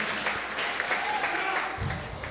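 Sustained applause from a church congregation fills the room, a steady broadband patter of many hands clapping at moderate loudness.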